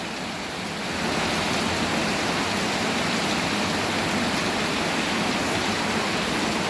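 Heavy rain pours down in a steady, dense hiss that swells slightly after the first second and stays constant. No children's voices stand out.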